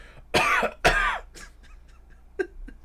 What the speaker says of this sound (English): an audience member starts coughing